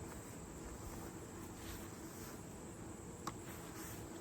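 A dense, steady hum of many buzzing honeybees at a hive in a 200-year-old house, faint and constant, like a swarm, with one brief click.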